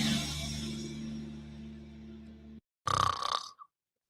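A person snores: a long, loud, rumbling breath that cuts off sharply, then after a brief silence a shorter, rasping snort.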